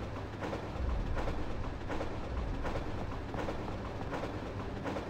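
A tram rolls along rails in Resident Evil 3, a steady low rumble with rhythmic clickety-clack of wheels over track joints, continuous and fairly close, no voices.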